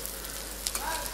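Shallots sizzling in hot oil in a pan for prawn thokku, a steady soft crackle with a few sharper pops near the end.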